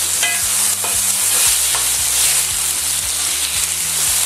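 Sliced chicken sears in a hot pan, a loud, dense sizzle and crackle running throughout, with low rhythmic scraping knocks as the pieces are shifted and stirred.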